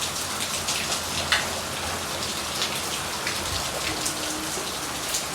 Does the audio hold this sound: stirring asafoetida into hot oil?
no